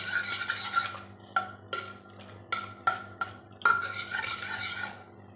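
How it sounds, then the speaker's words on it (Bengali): Dal with dry red chillies and whole garlic cloves is stirred in a watery pot. A spoon scrapes and taps against the metal in repeated close strokes, with steady bubbling beneath. "এখন ডালটাকে একটুখানি নাড়িয়ে দিই"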